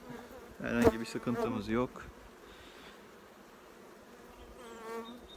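Native honeybees buzz at their hive in winter, a close steady hum behind someone speaking briefly near the start, then the drone carries on alone.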